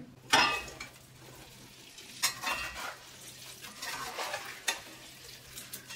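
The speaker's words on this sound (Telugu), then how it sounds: "ఎక్కువసేపు నూనెలో ఈ మసాలాలు వేగాల్సిన పని లేదు." Spices frying in oil for a spicy Indian chicken pickle, a soft steady sizzle broken by a few sharp scraping stirs of a spoon against the pan, close and moderately loud.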